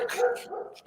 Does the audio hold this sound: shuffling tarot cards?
no